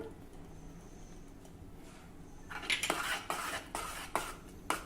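A spoon clatters and scrapes against a metal pot while cardamom powder is stirred into hot wheat kheer, a few distinct knocking strokes toward the end after a quiet start, close and moderately loud.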